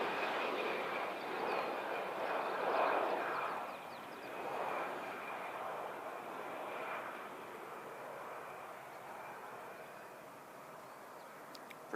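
A fixed-wing aircraft doing touch-and-goes at Christchurch Airport, its engine a steady distant drone that swells and fades over about twelve seconds, with a faint tonal whine running through it.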